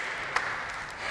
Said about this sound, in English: that was not a very enthusiastic applause